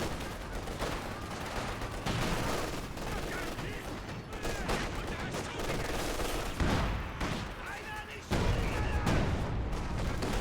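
A strategy-game battle roars with a dense artillery barrage and continuous gunfire, heavy booms and crackling bursts layered without pause, loud and close, with a commentator talking underneath.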